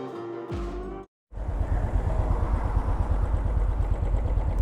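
Royal Enfield motorcycle engine running steadily at idle, a dense low rumble that starts after a brief silence and continues loud and close to the end with no talk.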